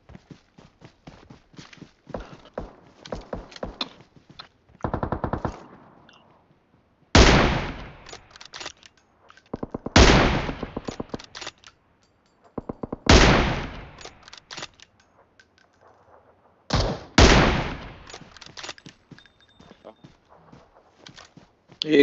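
Gunfire rings out in a battle royale video game: sharp bursts of shots come in several loud clusters between footsteps and quieter stretches, with players talking throughout.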